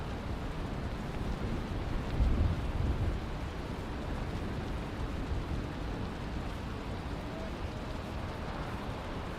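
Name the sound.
rain and thunder in the video game Valheim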